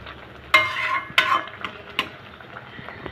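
A spoon stirs sim bahar, a bean curry, in a pan: three distinct scraping strokes over a soft steady sizzle, close and clear with no voices.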